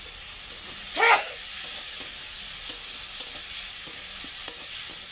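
Desi prawns tipped into fried-down masala for a Bengali bati chorchori keep up a steady close sizzling hiss, broken by light stirring taps and one brief squeaky chirp early on.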